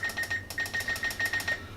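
A kitchen timer being set, a run of about a dozen quick, crisp electronic beeps in an even rhythm with one short pause, clear and close with nothing else over it.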